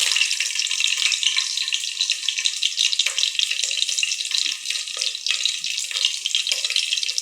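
Three green chillies dropped into hot oil for mushroom biryani set off a steady, close hiss and crackle of frying that continues evenly throughout, with no voices.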